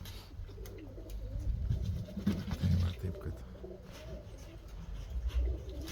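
Persian pigeons coo softly on a rooftop after a flight, repeated low burbling calls fairly close by, partly under someone talking.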